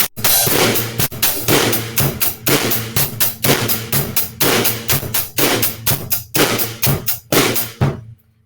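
A drum kit beat played sped up: regular, dense broadband hits with a steady eighth-note hi-hat over bass drum and snare, loud and close, running continuously for about eight seconds before cutting off.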